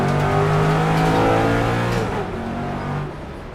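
A race car engine from the NightMare R mod in a sim racing game roars loud and steady, revving high then easing slightly toward the end, with a brief hint of tire squeal and no talking.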